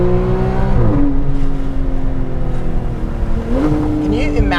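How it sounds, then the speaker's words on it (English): A 991.1 Porsche 911 GT3 exhaust sings loud and close as the engine revs climb, drop at a shift and climb again, with a voice talking faintly underneath. "we do have to appreciate the glorious exhaust note that this car produces."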